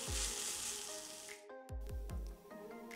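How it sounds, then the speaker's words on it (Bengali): Chicken masala with onions sizzling in a pan, a steady close frying hiss with a few brief clatters and a short lull, no voices. "সবগুলো মশলা দেয়া হয়ে গেলে আমি মিনিট দুয়েক মাংসগুলোকে রান্না করব"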